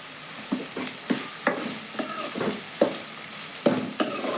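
Drumstick leaves cooking in oil in a pan, soft continuous sizzling broken by repeated scraping stirs of a spoon roughly every half second, close and fairly quiet.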